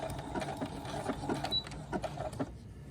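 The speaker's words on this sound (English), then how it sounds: "go ahead and pull your first pin out and begin sewing, and then we'll back stitch" A sewing machine stitching a zipper onto fabric runs in a quick, even, rhythmic chatter of needle strokes for a few seconds, close and moderately loud, with no talking.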